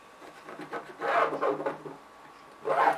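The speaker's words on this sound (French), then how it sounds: "Je trace ma diagonale." A marker or chalk is drawn in short rubbing strokes across fabric to trace a diagonal line on a fabric placemat, with three brief scratchy passes separated by pauses, close and fairly quiet.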